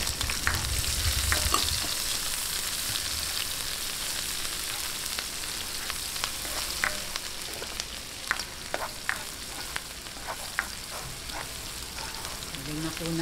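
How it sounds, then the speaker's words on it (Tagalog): Onion sizzling in a hot frying pan with oil, a steady loud crackle and hiss throughout, with occasional clinks and scrapes of stirring close by. "Lagay na po natin ng sibuyas."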